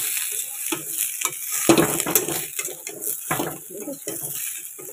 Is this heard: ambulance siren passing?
no